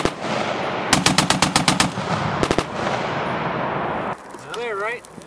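An M249 or M240 machine gun fires a loud, rapid burst of about ten rounds at a German forces live-fire range, then a few quicker shots. Outdoor rumble and voices carry underneath, and one voice rises and wavers near the end.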